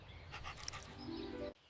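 A dog panting close by, with quick, rhythmic breaths that run steadily before stopping abruptly at the end.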